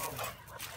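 A dog lets out a brief, close whimper and soft yip, with short strained vocal bursts over light background noise.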